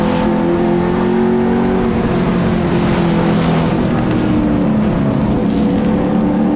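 Super Street race cars battle side by side at Wiscasset Speedway, a loud, continuous pack of engines droning and revving close by, pitch rising and falling through the corners.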